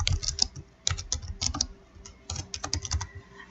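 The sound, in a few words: typing a palette name on a computer keyboard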